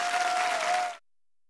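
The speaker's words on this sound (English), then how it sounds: "Cue the applause." Studio applause from an audience on a puppet animal talk show, a loud sustained burst of clapping that lasts about a second and then cuts off abruptly to silence.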